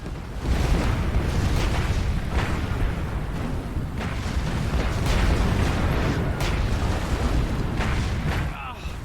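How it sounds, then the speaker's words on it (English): Artillery fire in the video game War Mongrels, a continuous rumbling barrage of booms and blasts that holds steady throughout, with soldiers shouting over it. "Incoming artillery fire!"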